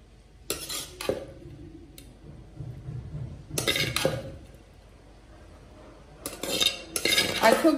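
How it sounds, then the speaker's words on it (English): Cooked pasta with green beans spooned into a bowl for tuna pasta salad, a few bursts of close clinking and scraping of utensils on dishware, separated by quiet gaps. "So I'm going to add in the pasta, and this pasta has been cooked with some green beans."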